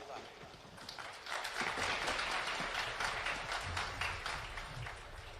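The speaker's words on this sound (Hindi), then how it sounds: "अब ताली तो बजा रहे हो" A crowd claps during a Hindu religious discourse. Faint patter at first swells into steady, dense, sustained applause, with a voice audible beneath it.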